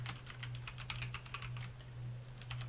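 Soft, rapid typing on a computer keyboard, an irregular run of close, quiet key clicks over a low steady electrical hum, with no voices.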